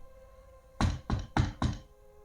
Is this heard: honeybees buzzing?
no